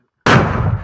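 After a brief silence, one loud, close mortar shot from a frontline mortar crew near Pokrovsk, Ukraine, booms out and rumbles briefly.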